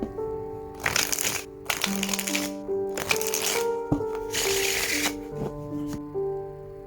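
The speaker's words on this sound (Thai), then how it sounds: "เดี๋ยวจะมาสับไพ่และดูกันเลยนะครับ" A deck of tarot cards is shuffled in several loud, close riffling bursts, with sustained musical tones playing underneath.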